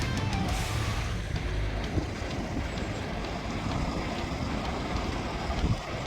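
Choppy sea whipped up by strong wind, heard from along a roadside: a loud continuous rush of wind buffeting the microphone over the churning roar of waves, with no speech.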